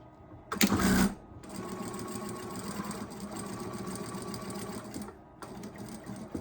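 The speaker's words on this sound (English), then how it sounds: "So then you just sew around the Velcro." Sewing machine stitching around Velcro on a fabric dining scarf: a short louder burst, then a steady close mechanical whirring for several seconds before it stops.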